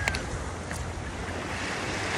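Morning sea waves at a beachfront wash in a steady, continuous broadband rush with some wind buffeting the microphone, close and fairly loud throughout, with no voices.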